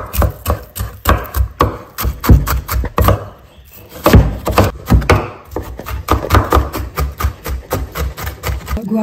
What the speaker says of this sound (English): So go ahead and chop some onions on it.